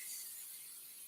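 Cooking oil sprayed briefly onto a seasoned cast iron pan, a faint, steady hissing spray lasting about a second.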